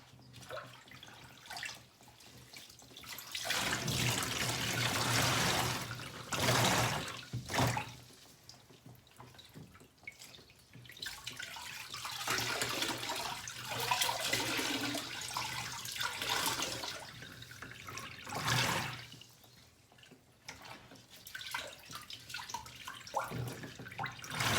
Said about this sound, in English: I'm just going to squeeze the water out and put it on top of this rack to let the excess water drip out.